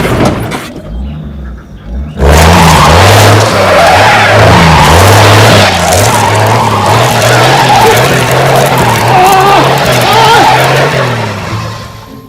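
A four-wheel-drive car skids hard with loud, sustained tire squeal over a low engine drone, starting abruptly after a brief quiet lead-in and holding steady before easing off at the end.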